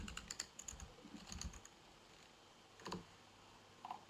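Short bursts of clicky keystrokes on a computer keyboard, close and quiet, with pauses between the clusters of taps.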